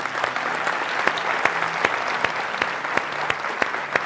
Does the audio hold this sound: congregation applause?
yes